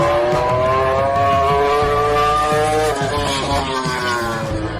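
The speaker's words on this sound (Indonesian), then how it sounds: "bagaimana laju dan gaharnya suara motor baru suksesor Yamaha YZR M1 tersebut" Yamaha YZR M1 successor racing motorcycle with a new V4 engine screams at high revs, a loud sustained wail that shifts pitch as it runs past, with no voices.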